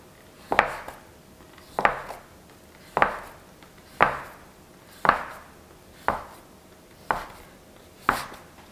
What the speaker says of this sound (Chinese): 直接搓成长条状，切分成大小均等的面剂子